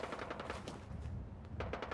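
Rapid bursts of automatic gunfire from the video game Fallout 4, fairly loud, with a short pause before another volley.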